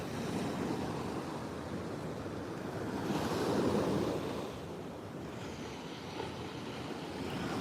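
Ocean surf rolls in at the shore on Maui at dawn, a continuous wash of breaking waves that swells louder in the middle and then eases, with wind buffeting the microphone.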